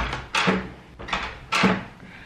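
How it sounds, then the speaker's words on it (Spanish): A door with a newly replaced internal spring is opened twice, each time a sharp latch click and swinging rush, with a short gap between the two openings and no talking. "¡Qué alegría poder abrir esta puerta así!"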